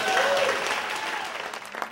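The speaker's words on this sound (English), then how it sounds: "Please give him a nice round of applause." Audience applause at a drum talk show, a dense burst of clapping from a crowd that gradually thins out, with a voice briefly audible over it.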